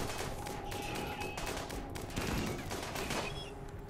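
Rapid overlapping gunfire crackles through a firefight in the video game RimWorld. Bursts come in a dense, continuous volley at moderate loudness over a busy background.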